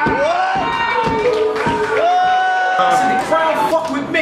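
A crowd at a rap battle cheers and whoops in a loud, continuous roar, with shouting voices layered over the noise throughout.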